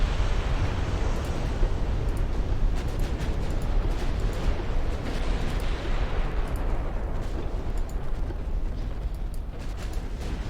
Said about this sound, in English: Is that an ammo explosion?